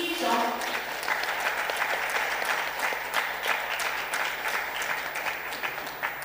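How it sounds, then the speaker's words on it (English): An audience at the Future Energy Forum gives sustained applause, dense clapping that carries on steadily from start to finish. "So one last round of applause"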